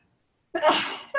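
One sharp, close human sneeze bursts out after a moment of silence, followed by the start of speech.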